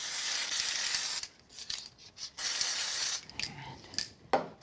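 Several short hissing bursts from a spray bottle misting over glitter in card crafting, each a few fractions of a second, with brief quiet gaps and light handling clicks between them.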